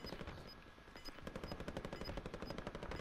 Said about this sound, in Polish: O kurde, tam ktoś ze mnie strzela.